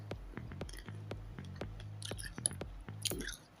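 Someone chews crisp, sweet grapes close to the mic, a series of soft wet crunches and squishes in an irregular rhythm, quiet and intimate with light mouth sounds between bites.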